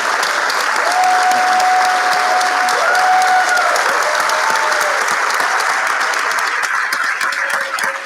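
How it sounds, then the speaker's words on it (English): An audience applauds Braver Angels volunteers at a community field plenary, steady sustained clapping filling the room for about eight seconds, with faint tonal whistles or cheers drifting through. "And let's give them a round of applause."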